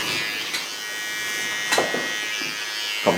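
Electric hair clippers trim the neckline of a short platinum-blonde pixie cut. A steady high buzz runs close and constant, with brief dips and rasps as the blade meets the hair.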